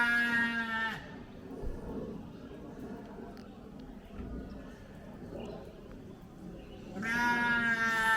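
Sheep on a farm bleat loudly at the start and again near the end, with quieter farmyard noise and a person talking in between.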